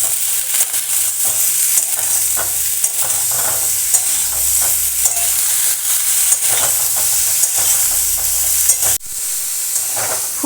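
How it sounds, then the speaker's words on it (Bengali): Cauliflower florets with turmeric and salt fry on high flame in a pan, a loud continuous sizzle broken by repeated scrapes and clinks of stirring, then a sudden drop near the end; no speech. "এবার আমি হাই ফ্লেমে ফুলকপিটা ভালো করে ভেজে নেব"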